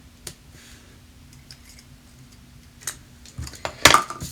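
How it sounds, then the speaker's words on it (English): Snips cutting paper while making a greeting card, a few quiet snips followed by a louder, sharper cutting snap near the end, close and with no talk. "Grab my snips. Maybe cut off my little tail."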